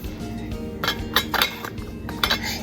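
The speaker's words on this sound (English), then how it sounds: "Now let's mix it up Mix it up with our spoon." A spoon clinks and scrapes against a bowl while food is mixed for toddler fajitas or pizza, giving irregular close metallic taps in short bursts with no talking.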